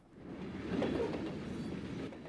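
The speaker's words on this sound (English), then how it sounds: "Trains have been rolling through Parkersburg since 1865." A train rolls through Parkersburg with a steady, moderately loud rumble that swells slightly and holds, carrying no voices.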